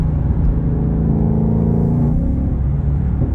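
Ford Mustang GT500 engine cruising in fourth gear, a loud, steady low rumble with a faint rising drone, heard from inside the car with no talking.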